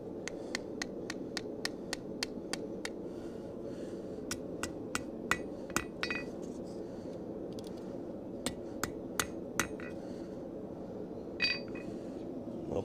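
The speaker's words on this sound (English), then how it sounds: "Like I said, we're on the edge of the anvil. Start splitting these open a little bit." A hammer striking a chisel to split steel on the edge of an anvil, sharp ringing metallic blows in a steady rhythm, several separate runs of hits over a low background hum.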